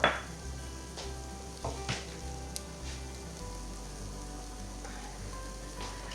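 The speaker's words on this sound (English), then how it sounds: "So we're just going to saute these a bit." Vegetables for fried rice sauté in a pan, giving a soft, steady sizzle with a few light clicks and stirring scrapes near the start.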